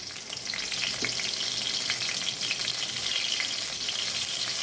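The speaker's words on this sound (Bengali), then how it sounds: "কালো জিরে দিলাম এবার কাঁচা লঙ্কা দিলাম" Nigella seeds and green chillies frying in hot oil as a tempering for a bottle-gourd-greens dish, a close, continuous crackling sizzle that holds steady throughout with no voices.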